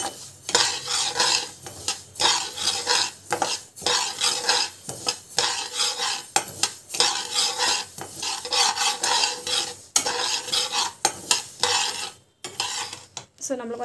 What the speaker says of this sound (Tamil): கடுகு வந்து நல்லா வந்து வறுத்துக்கலாம்